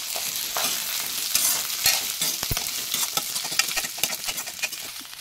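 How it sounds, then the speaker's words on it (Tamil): Ginger and coconut pieces fry in a clay pot for a field bean gravy, giving a steady close sizzle with scraping stirs and small pops throughout, and no talking. "கூடவே நம்ம கட் பண்ணி வச்சுருக்கிற தேங்காயை சேர்த்து நல்லா வறுத்துக்கலாம்."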